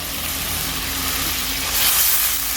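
Onion paste and whole garam masala hit hot oil for egg korma, giving a loud, continuous close-up sizzle that builds slightly near the end.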